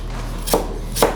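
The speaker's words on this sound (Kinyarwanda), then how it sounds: "Dutangira dukata igitunguru" A knife chops through an onion on a board in two crisp, evenly spaced strikes, close and distinct over quiet background hum.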